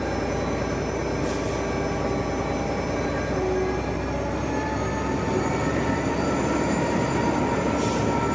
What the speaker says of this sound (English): the Pullman sets off for what promises to be a very wet trip